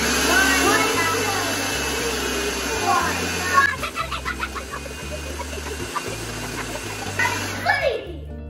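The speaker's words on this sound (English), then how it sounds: "let's blend it for 30 seconds." A blender whirs through gluten-free orange muffin batter, a steady motor roar that wavers and pulses toward the end before cutting off, with a voice talking over it.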